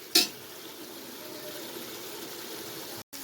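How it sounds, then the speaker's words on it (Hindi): Water poured into a pan of fried masala and meat for turnip meat curry, a sharp splash at the start followed by a steady hiss and sizzle, moderately close and without talk. "अब हम इसमें डालेंगे पानी। तो मैंने डाला इस पर 2 कप पानी।"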